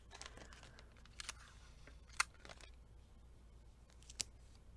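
Scissors snip around taped packaging while putting away a bead order, a few quiet cuts with crinkly rustling of plastic and two sharp clicks, close and faint with no talking.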